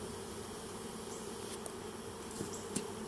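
Honey bees at the hive entrance fanning their wings to spread pheromone, a steady close buzzing drone that continues throughout, with a few faint clicks and brief louder wing passes.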